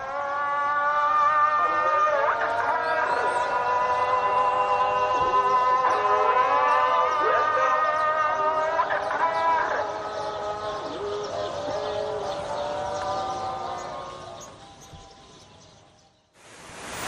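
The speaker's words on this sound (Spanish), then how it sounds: "Entonces surge el genuino sonido del Islam, el canto de los muecines llamando a la oración." Muezzins chant the call to prayer across the Fez Medina, long wavering melodic lines echoing from a distance for about fifteen seconds, with faint ambient city sound around them.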